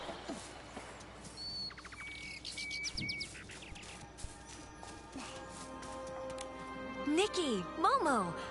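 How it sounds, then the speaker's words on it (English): Birds chirping in the game Infinity Nikki, scattered tweets and short trilling calls over a soft ambient backdrop, growing brighter and busier toward the end. "Let me get these birds real quick"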